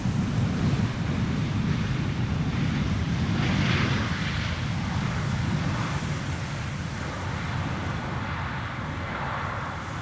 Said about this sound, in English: one is flying in the background now, going to the center runway, lot flight 267, arriving from Warsaw, Embraer 190.